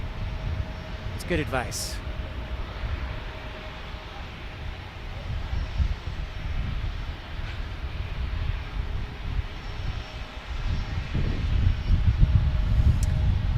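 An Embraer E175 jet lines up and takes off at San Diego airport, a steady broadband engine roar that swells gradually toward the end, with a person talking over it.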